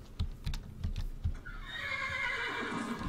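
A horse in the video game Minecraft clops a few hooves and then lets out a loud, drawn-out whinny that trails off, with no voices over it.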